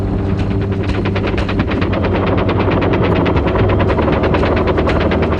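A Bell UH-1 Huey helicopter roars close by while an M60 machine gun fires in rapid, evenly spaced bursts over the heavy rotor and engine drone, loud throughout.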